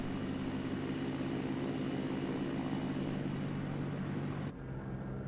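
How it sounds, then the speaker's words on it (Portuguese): Steady, droning piston-engine hum of a Diamond DA-40NG light airplane in Microsoft Flight Simulator 2020, loud and continuous, dipping slightly in tone near the end; no talking. "Esse nosso avião aqui. O DA-40NG."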